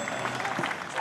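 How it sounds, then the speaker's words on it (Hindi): Brief, dense clapping from a crowd welcoming a student at a school annual function, steady and moderately loud across the whole short moment. "जोरदार तालियों से दीपक का स्वागत करें।"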